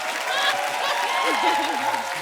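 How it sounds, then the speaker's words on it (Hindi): A studio audience applauds on a comedy talk show set, steady clapping that fills the clip under a loud host's voice and background music. "जोरदार तालियां करण और बिपाशा के लिए।"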